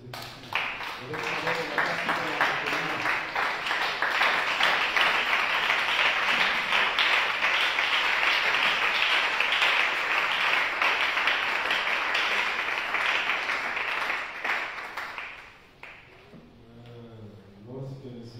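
A church congregation applauds and cheers loudly and steadily for about fifteen seconds, a dense crowd wash with voices shouting through it, before it fades and a single voice resumes.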